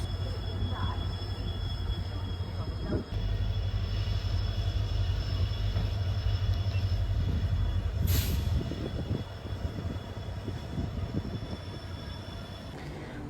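The Amaravati Express, running from Vasco da Gama to Shalimar, rolls through the Braganza Ghats in monsoon, heard from on board as a loud, continuous rumble of wheels and carriages with occasional squeals and clanks.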